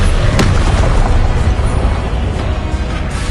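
A Confringo blasting spell explodes in the Hogwarts Legacy video game, a dense, loud booming rumble with a sharp burst near the start that fills the whole moment.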